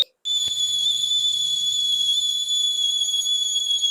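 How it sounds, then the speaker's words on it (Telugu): A milk cooker on the stove whistles with a steady, piercing high tone that starts abruptly and holds loud and unbroken close by. "కుక్కర్ విజిల్ వచ్చిన తర్వాత స్టవ్ ఆఫ్ చేసుకుంటే సరిపోతుందండి"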